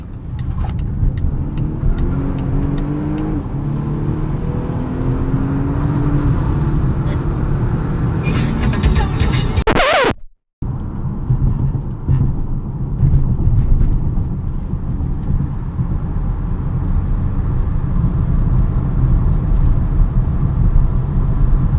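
A 2020 Volvo V60 T8 E-AWD Polestar hybrid is driven in automatic mode, its steady loud engine and road drone continuous throughout with a brief dropout midway, with no talk.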